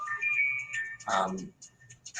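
A phone ringtone chirps during a New York radio talk show, a short electronic melody that repeats over the first second before a voice cuts in, fairly faint in the room.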